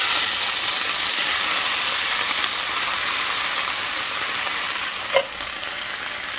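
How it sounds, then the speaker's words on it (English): Pato sauce hitting a hot pan for chilaquiles gives a steady, close, full sizzle that holds for several seconds, with one brief click near the end. "I'm going to go ahead and add my pato sauce"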